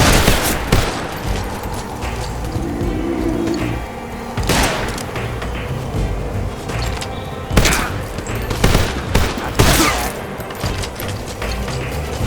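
Gunfire in the stealth action game Metal Gear Solid Delta: Snake Eater comes in repeated loud bursts and sharp shots over a busy background of mechanical clatter and effects, with no clear speech.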